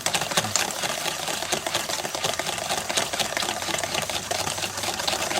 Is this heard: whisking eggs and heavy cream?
yes